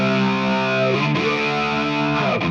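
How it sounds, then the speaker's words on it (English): Distorted electric guitar through a talkbox-style formant effect and wah, from a preset, sustains a thick chord whose vowel-like tone sweeps twice, loud and continuous. "a formant block, which is our TalkBox sound, accentuated by the wah"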